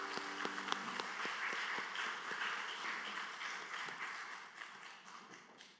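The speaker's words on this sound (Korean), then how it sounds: "우리 할렐루야 찬양대 주일 경배 찬양팀 축복하고 격려하는 박수 하도록 합니다" A church congregation applauds its choir and worship team after a Sunday hymn, a dense wash of clapping with a few sharp claps up front, steady for several seconds and tapering off at the end.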